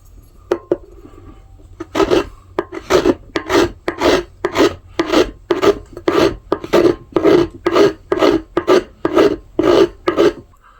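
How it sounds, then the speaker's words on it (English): Crescent Nicholson 4-in-1 rasp and file shaping a wooden hammer handle, heard as about fifteen evenly spaced, rough scraping strokes in a steady rhythm, close and clear with brief gaps between each pass. "We're using this Crescent Nicholson 4-in-1 rasp and file."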